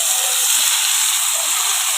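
Curry leaves and onions fry in a hot pan, a dense, steady sizzling hiss that runs loud and close without a break.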